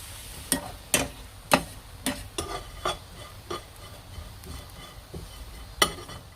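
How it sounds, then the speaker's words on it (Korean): Anchovies and onion stir-frying in a pan, heard as sharp scraping strokes of a utensil about once a second over a soft, steady sizzle, close and alone. "한쪽에는 메르치를 지금 볶고 있습니다"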